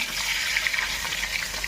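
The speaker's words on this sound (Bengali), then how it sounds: "তেল গরম হয়ে গেছে আর ডিমগুলো দেওয়া হচ্ছে।" Eggs dropped into hot oil fry with a loud, continuous, crackling sizzle close by, bright and even throughout with no voices.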